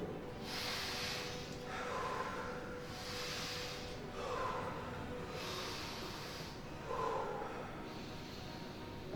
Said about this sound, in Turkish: Üç nefes alın.